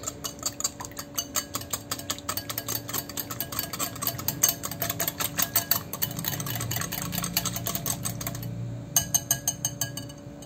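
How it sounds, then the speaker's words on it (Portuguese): A spoon beats egg and salt in a bowl with quick, steady clinking strokes close up, a rapid metallic rhythm that runs almost continuously with a faint hum beneath and a brief pause near the end. "E aqui a gente vai começar a misturar"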